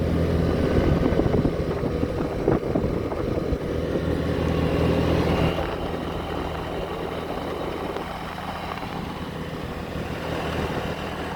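A moped on an evening ride along a paved road gives off a constant engine drone mixed with wind rush, loud and close at first, then settling slightly quieter while staying steady to the end.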